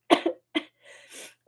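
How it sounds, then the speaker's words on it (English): A woman streaming from home coughs hard twice in close succession, then gives a softer rasping breath and throat clearing, close to the microphone. "almost choking on my own cough."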